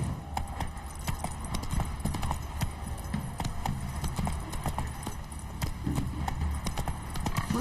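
Hooves of the horse Roach clop steadily at a walking pace in a video game, close and continuous for the whole stretch, with faint ambient game sounds underneath.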